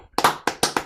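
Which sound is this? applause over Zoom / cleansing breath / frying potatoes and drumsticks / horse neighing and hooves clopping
applause over Zoom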